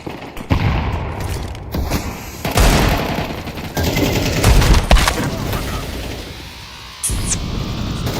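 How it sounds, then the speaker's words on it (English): Counter-Strike 2 match with dense gunfire, sharp repeated shots and bursts, flashbang and grenade blasts close and loud over a steady game background, and no talk heard. "Throwing fire! Throwing the flashbang! Grenade out!"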